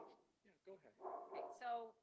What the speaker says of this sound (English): my dog is back